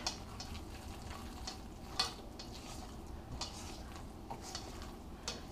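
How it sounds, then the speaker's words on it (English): A whisk gives paleo lemon pound cake batter a gentle stir in a bowl: quiet, irregular light taps and soft scraping strokes close by, low in level, with no talk. "it says that we need to come back and give it another good whisk"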